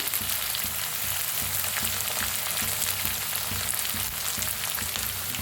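Corn frying in a pan with chili flakes, a dense, loud, continuous sizzle with faint rhythmic stirring underneath, close and steady throughout.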